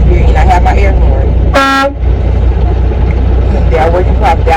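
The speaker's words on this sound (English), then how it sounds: "And I have my air horn." A truck's air horn gives one short, loud, tonal blast during a pre-trip inspection, with a running engine idling underneath and someone talking before and after.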